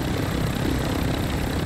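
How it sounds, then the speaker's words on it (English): Helicopter in flight during a jousting game, a steady droning engine and rotor roar filling the short stretch at constant loudness with no pauses. "Helicopter jousting."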